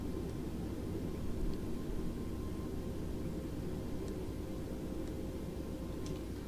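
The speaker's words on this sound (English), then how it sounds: "Reversers. Auto brake's doing its thing." Airbus A320neo in Microsoft Flight Simulator rolling out after landing with thrust reversers deployed and autobrake engaged: a steady, dense broadband engine roar with no voices, holding level throughout.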